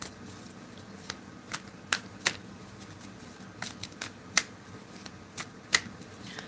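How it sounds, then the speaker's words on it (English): Tarot cards shuffled by hand, giving faint, steady riffling with sharp, irregular snaps and slaps over a quiet background. "All right, I'm shuffling."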